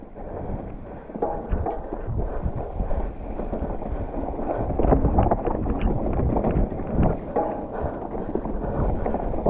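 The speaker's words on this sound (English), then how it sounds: "Paddling." Kayak paddling on open water along a trail, with rhythmic paddle strokes and splashing mixed with steady wind rumble against the microphone, fairly close and continuous with no talk.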